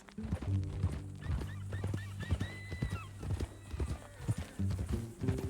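Horse hooves clip-clop at a steady walking rhythm in Red Dead Redemption 2, close and clear, with a horse whinnying briefly and a low music bed underneath.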